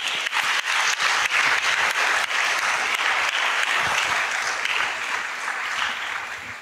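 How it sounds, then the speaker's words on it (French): Loud, full audience applause in a church or lecture hall after a talk by Father Thibault, dense clapping holding steady for several seconds with a few sharper individual claps standing out before tapering slightly. "On applaudit plus fort."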